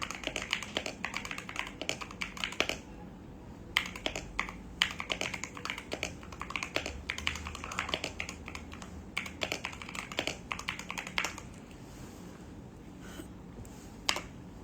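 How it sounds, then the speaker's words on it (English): A computer keyboard is typed on steadily and close up, a fast, continuous stream of light clacking keystrokes with brief pauses and no talking. "I love this keyboard, y'all."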